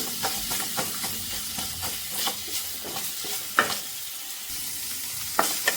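Onions and vegetables for a homemade chicken roll sauté over a low flame, a constant close sizzle broken by frequent spatula scrapes and a few sharp clanks against the pan, no talking.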